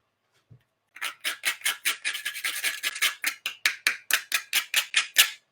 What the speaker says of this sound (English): we're back to the nutmeg, okay? Really just a pinch of nutmeg. And I'm grating the heck out of it.